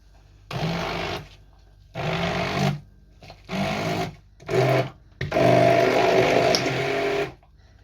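A blender whirs loudly in five bursts of increasing length, with short pauses between pulses and a long final run.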